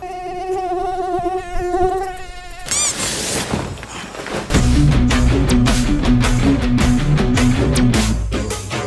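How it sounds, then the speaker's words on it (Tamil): A thin, whining insect buzz drones steadily at the start, then gives way to louder, rhythmic music that carries on to the end. "பராரி எவ்வளோ கொசுடா"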